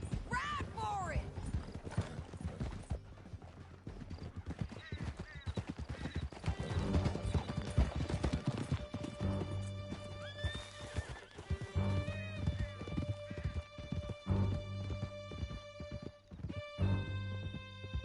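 Horses gallop in Red Dead Redemption 2 with rapid clip-clop hoofbeats and neighing whinnies, close and loud, under shouting voices and dramatic music.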